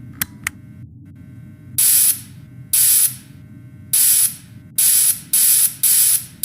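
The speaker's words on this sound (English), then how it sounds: "So go ahead and start spraying the suit" Repeated hissing bursts of spray onto a suit in a video game, each about half a second long, coming in an uneven series over a low background hum.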